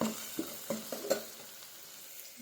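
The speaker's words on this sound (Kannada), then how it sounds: "ಸ್ವಲ್ಪ ಗೋಲ್ಡನ್ ಕಲರ್ ಬರೋಂತ ಈರುಳ್ಳಿನ ಫ್ರೈ ಮಾಡ್ಕೊಳ್ಳೋಣ" Two onions frying in oil in a pan make a soft sizzle, punctuated by several quick scrapes as they are stirred, all close and quiet.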